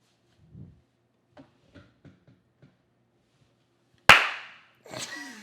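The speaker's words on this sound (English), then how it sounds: "It was a good clap." A single loud, sharp hand clap rings out suddenly after several quiet small sounds, followed by a brief reaction sound in a quiet room.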